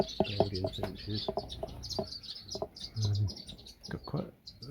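Young molting-out Belgian finches in an outdoor aviary chirp and tweet in quick, overlapping bursts, a busy chorus of small calls close by with some lower clucking notes mixed in.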